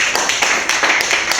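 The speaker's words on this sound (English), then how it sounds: "Let's give her a round of applause" An elementary school audience claps for a student speaker, a close, bright patter of overlapping claps that continues evenly without pause.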